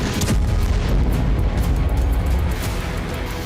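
A missile strike explodes on a residential building in Kharkiv. Heavy, loud, rumbling booms and blasts follow one another in a dense, continuous roar with no quiet gaps.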